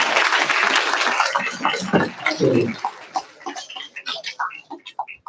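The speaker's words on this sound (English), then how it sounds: "can give them a round of applause" Audience applause fills the room at a graduation ceremony, then thins into scattered claps that taper off. A voice talks over it near the middle.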